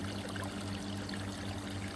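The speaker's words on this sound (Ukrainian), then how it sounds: "зараз у нас е, іде гаряча вода" Hot water pouring into a jacuzzi hot tub, a steady broadband rush with a low hum underneath, continuous and fairly quiet throughout.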